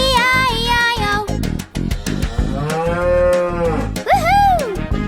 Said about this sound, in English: With a moo-moo here and a moo-moo there